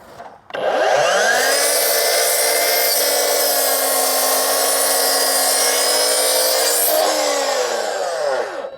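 A Hilti mitre saw spins up and cuts through stacked double-thickness wood in one loud, steady whine lasting about seven seconds, then winds down with a falling pitch.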